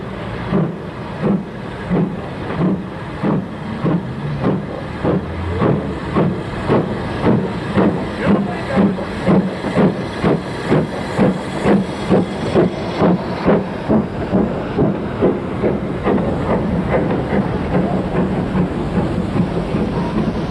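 Steam locomotive 46441 departing for Rawtenstall, its exhaust beating in a steady, gradually quickening chuff rhythm with hiss, loud and close throughout with no talk.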